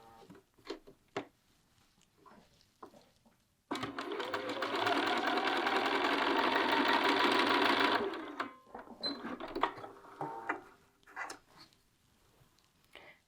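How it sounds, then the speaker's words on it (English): A sewing machine stitches within a seam allowance a quarter inch from the edge while assembling a bag body, a close, steady whirring run of about four seconds between quieter handling and rustling. "we're going to sew within the seam allowance just to keep that in place"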